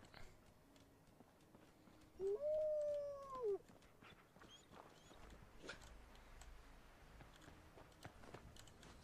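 A dog in the post-apocalyptic video game Fallout 4 lets out a single drawn-out whimpering howl that rises and then trails off, alone over a faint game ambience.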